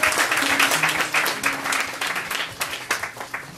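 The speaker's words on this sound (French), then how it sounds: "Applaudissez-la, s'il vous plaît." An audience at a poetry tribute claps steadily, a full round of close applause that gradually thins toward a few scattered claps at the end.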